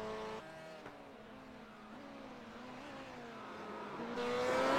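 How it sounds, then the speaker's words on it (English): A race car engine revs and steps up through quick short shifts heading into turn 1, a steady droning tone with distinct pitch drops at each gearchange, then rising louder toward the end. "You can hear him short shifting."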